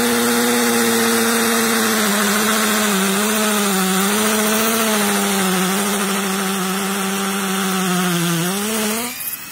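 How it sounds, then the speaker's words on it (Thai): An 84V MEKATA cordless hammer drill at full speed in hammer mode grinds into concrete with a loud, steady droning hum that wavers slightly, then cuts off at the end. "นี่สามารถเจาะปูนได้นะครับหัวกระแทกได้นะครับ"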